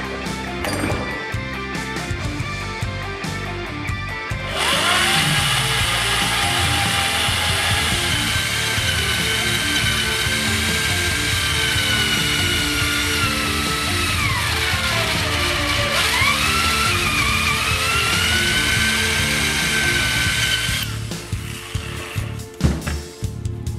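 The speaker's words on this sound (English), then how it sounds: "now that we've drilled quite a bit" A power drill bores into the bearing ring on a Jeep WJ Dana 44/35 axle shaft with a loud, steady, whining grind that shifts in pitch as it cuts. Clanks and knocks come before and after it, and no one speaks.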